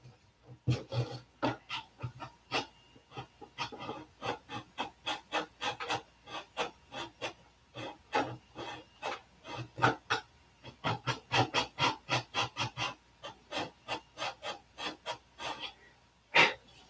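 Repeated rasping strokes of hand sanding on a surface, steady back-and-forth rhythm with short pauses, close and fairly loud throughout.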